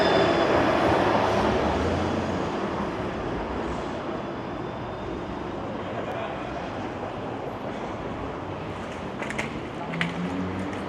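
A Toronto streetcar passes on a downtown street in summer heat, a broad rolling rumble that is loudest at the start and eases to a steady wash, with faint scattered street sounds near the end.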